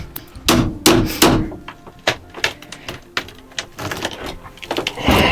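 Hammer blows driving nails into old, partly rotted floorboards in a century-old farmhouse, a quick burst of three loud strikes followed by scattered, irregular knocks and taps close by.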